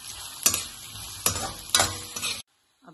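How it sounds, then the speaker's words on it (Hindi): Chopped onion, garlic and grated ginger sizzle in a hot pan as a utensil stirs and scrapes several times, each stroke making a sharp clatter over the steady frying hiss, up close, before a sudden near-silence. "अब मैं प्याज और थोड़ा सा लहसुन डाल के फ्राई करूंगी"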